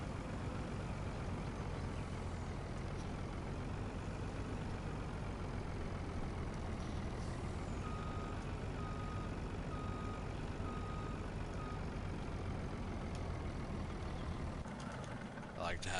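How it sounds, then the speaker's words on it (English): A farm truck in the Farming Simulator video game backs up with a steady engine drone and faint reversing beeps, all at an even level from start to finish. "That way I can just park this truck back here"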